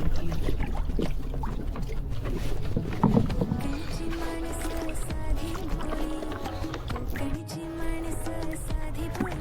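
A fishing boat motor rumbles steadily on open water while the hull moves through it, with a continuous low drone, splashing, and faint voices.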